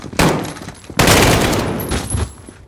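Loud gunfire bursts from the Call of Duty Modern Warfare campaign mission Captive: a first burst and then a second, longer volley of rapid shots lasting nearly two seconds, close and harsh, with no talk.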